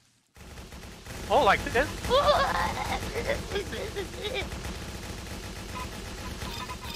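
Rapid bursts of video game gunfire crackle through a shooter match, layered with broadband game noise while a player speaks briefly over it.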